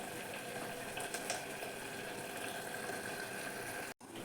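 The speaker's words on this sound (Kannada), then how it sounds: "ಬಂದಮೇಲೆ ಅದಕ್ಕೆ ನಾನು ನೀರು ಆ್ಯಡ್ ಮಾಡ್ತಾಯಿದ್ದೀನಿ" Water poured into a pan of cooking spinach for palak rice gives a steady, close rushing hiss that runs evenly for about four seconds, then cuts out abruptly for an instant near the end.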